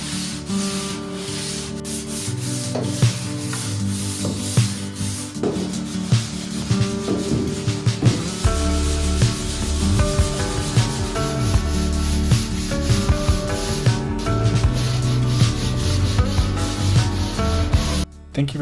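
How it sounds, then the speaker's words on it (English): Drywall mud is sanded by hand in a tiny home bathroom during a beginner renovation. The steady, close, abrasive rubbing runs continuously and gets heavier in the second half, with no voices. "Definitely needs a little bit more sanding and mudding."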